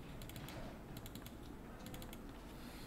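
Computer mouse clicking in SketchUp, a handful of quick paired clicks in quick succession, quiet and close over faint room noise.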